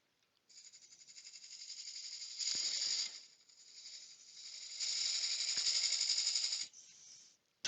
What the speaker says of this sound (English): we'll just give it another little scrape and just take a tiny little shaving off it